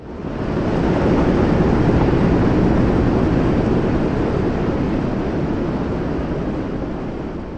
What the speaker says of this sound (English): Liftoff. We have liftoff.